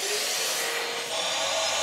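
A vacuum former runs with a steady, loud, broadband rushing roar of suction that holds evenly throughout without pauses.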